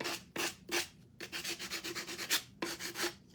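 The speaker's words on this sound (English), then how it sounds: "sanding block or sandpaper or whatever" Rhythmic back-and-forth scraping of a sanding block over a surface, short rasping strokes repeated in quick succession, close and fairly quiet.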